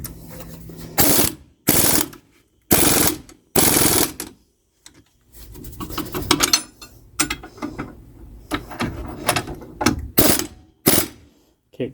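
Mechanical clicking and ratcheting from tightening down a strut install on a Sprinter van (Winnebago View Navion), coming in loud repeated bursts with short pauses, then quicker, lighter ticking toward the end.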